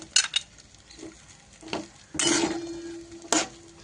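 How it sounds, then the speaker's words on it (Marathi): Sago pearls being stirred and roasted in melted ghee in a kadhai, giving a few scraping stirs and soft sizzling bursts, close and fairly quiet, with no talking. "छान मस्त परतून घ्यायचं तुपामध्ये साबुदाणा"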